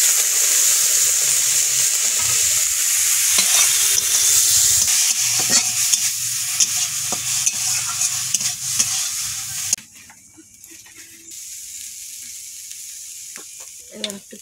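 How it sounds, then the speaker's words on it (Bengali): Prawns frying in oil in a pan in a home kitchen, a loud continuous sizzle with stirring scrapes that cuts off abruptly, followed by quieter clinks and scattered stirring sounds. "এবার একটু তেল দিয়ে ভেজে নেবো ভালোভাবে"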